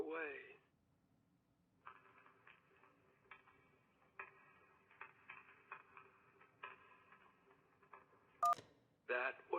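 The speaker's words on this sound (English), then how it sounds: "That was someone burning a phone book." A burning phone book, played as a muffled, band-limited effect through a phone line in the game Kentucky Route Zero: faint crackling with scattered ticks, closed by a sharp DTMF-like beep, with brief voice at start and end.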